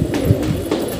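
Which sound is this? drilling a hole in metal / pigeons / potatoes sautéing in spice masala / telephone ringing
pigeons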